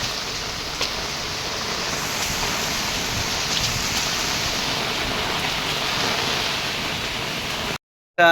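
Heavy rain pours down at night with gusting wind, a dense and steady roar of falling water that holds constant and close. It cuts to silence just before the end.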